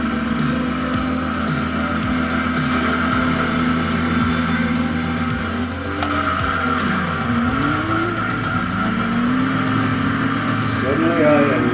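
Racing cars in the PlayStation game Gran Turismo, engines whining steadily, with tires squealing and skidding through corners, someone talking over the loud continuous drone.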